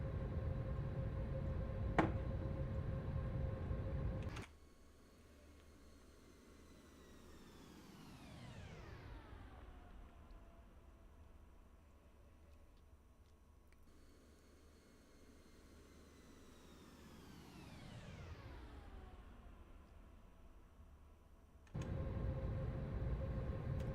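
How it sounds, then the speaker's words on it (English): Boeing 787-10 Dreamliner engines in the Aerofly FS 4 flight simulator give a steady, loud cabin-style roar with a whining tone that twice sweeps slowly down in pitch, after a louder, rougher stretch at the start and end. No speech. "Man, this is a loud plane."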